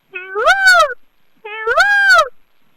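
A girl imitates a peacock's call, giving two loud, rising wailing cries about a second apart, each a harmonic-rich honking yelp.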